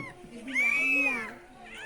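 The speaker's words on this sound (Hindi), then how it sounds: "बिल्ली है ना? देख बिलाई है।" A cat gives one drawn-out, rising and falling meow in the middle, close by, over a low background hum.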